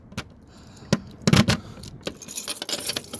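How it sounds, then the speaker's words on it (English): A ring crowded with many keys jangles in a series of bright metallic rattles and clinks, with a few sharper shakes near the start and a steadier jingle toward the end, close up, with no talking. "So many dang keys."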